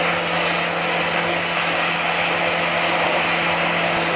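Strips of potato and spring onion fry in hot oil, a loud, steady, unbroken sizzle with no talking.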